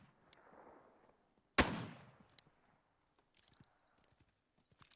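A single sharp shotgun blast in a video game while fighting bears, loud and close with a short decaying tail. It is surrounded by faint clicks, footsteps and small handling noises, and no one talks.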